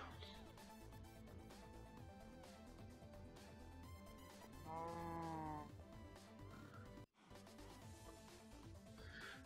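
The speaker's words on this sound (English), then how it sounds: "Oh, lazy damn cows." Blocky cattle in Minecraft's Agrarian Skies modpack give a drawn-out moo near the middle, set against a busy, continuous game soundtrack and ambient clutter.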